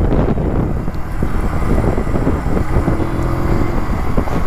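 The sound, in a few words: riding a Junak M12 Vintage motorcycle, wind noise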